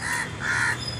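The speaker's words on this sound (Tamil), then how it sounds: "எவ்வளோ காக்கா பாருங்கள்" Crows caw twice in quick succession, loud and near, where many crows gather to feed during the rainy season.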